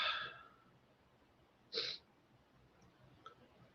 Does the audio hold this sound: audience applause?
no